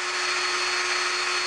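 A power drill runs steadily, boring holes in a homemade quarter-turn GoPro camera bracket for a handlebar mount, its motor whine a continuous close, loud drone with a constant pitch throughout.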